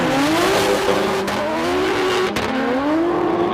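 A drift car's tires squeal loudly on a first competition run at Suzuka Twin Circuit, a sustained wavering screech over a droning engine that rises and falls through the slide.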